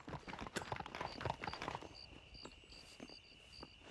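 Horse hooves clip-clop in Red Dead Redemption, a quick, close, irregular run of hoof strikes that fades into softer steps, accompanied by a steady electronic tone and light beeps from the game.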